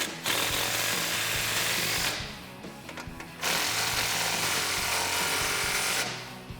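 A power wrench tightens 15 mm exhaust bolts on a 2015–2017 Mustang GT cat-back system, sounding as loud rattling bursts of hammering, close by, separated by short pauses.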